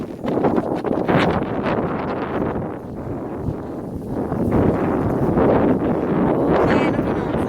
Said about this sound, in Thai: ลมบ่อยๆ